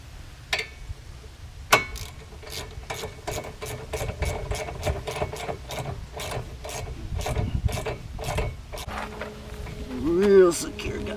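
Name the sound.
tightening a bolt while fitting Cadillac CTS brakes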